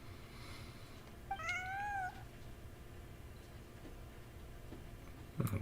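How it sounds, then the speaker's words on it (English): A cat meows once in Genshin Impact, a single clear rising-falling mew at moderate distance over quiet ambient game background, followed by a brief soft knock near the end. "Hear the kitties out there playing a little bit"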